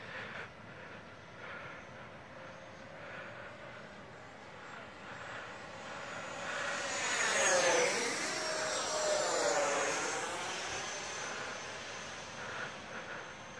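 A pair of RC 70mm EDF F-16 jets, an FMS and an E-flite flying in formation, whoosh past with a rising and falling ducted-fan whine that peaks mid-pass, heard from a distance over steady outdoor background.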